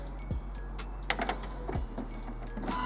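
An Epson Stylus SX415 inkjet printer runs a nozzle check page, giving a quiet close whirring hum with a few sharp mechanical clicks and motor buzzes as the print head shuttles.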